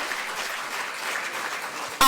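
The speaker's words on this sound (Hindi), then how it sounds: "जोरदार तालियां होनी चाहिए।" Applause at a government ceremony handing out appointment letters, a steady wash of many hands clapping throughout, moderately loud and evenly sustained, ending in a brief sharp burst.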